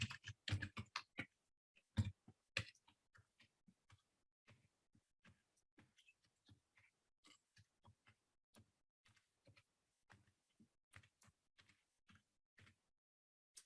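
Someone types a password on a computer keyboard: a quick cluster of loud keystrokes at first, then sparser, softer taps at an irregular pace, close and clean with no talking.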